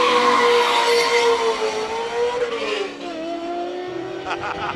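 Ford Caprice racing at the Speed Classic in Cape Town, its loud engine note sweeping through gear changes and dropping in pitch as it passes close by, with faint tyre scrub and crowd ambience underneath.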